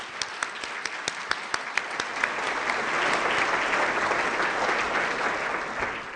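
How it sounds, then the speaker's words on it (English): An audience applauds students at a school district awards ceremony: a few sharp, separate claps open, then build into steady, dense clapping from the whole room, sustained and fairly close. "Let's give another round of applause to all the students."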